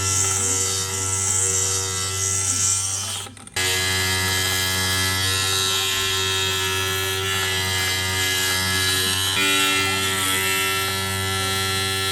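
A power tool doing hardcore grinding, a loud steady high-pitched electric whine that holds throughout, dropping out for a moment early before resuming at full strength.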